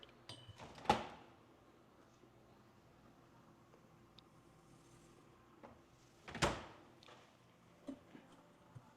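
Refrigerator door in a luxury model home kitchen with shaker style cabinetry, heard as two distinct thumps with soft seal sounds and a few faint clicks in a quiet room.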